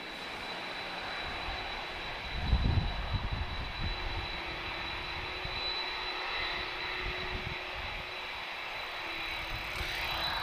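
Engines of a Star Air Boeing 767-25E BDSF converted cargo jet at Lisbon Airport, a steady broadband roar heard from a distance with a brief louder rumble partway through, no talking.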